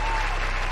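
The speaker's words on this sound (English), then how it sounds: "So let's give him some applause there." A short burst of audience clapping during a live comics-drawing challenge event, loud and close, with a faint low hum underneath.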